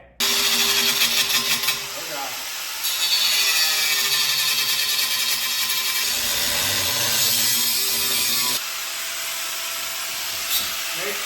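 Angle grinder cutting metal while building a cheap drift kart, a loud, continuous high whine that holds for most of the stretch, dropping in pitch and level near the end, with brief voices over it.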